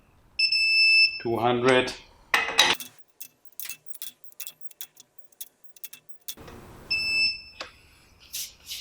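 A torque wrench tightening Volvo wheel nuts to 200 Nm, making a run of sharp, evenly spaced ratchet clicks up close, with someone talking and electronic beeps before and after.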